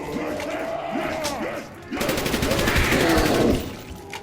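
AK-74u automatic fire in Call of Duty Zombies on Kino Der Toten, a loud sustained burst of rapid shots following a short stretch of game sounds, with a voice talking over parts of it.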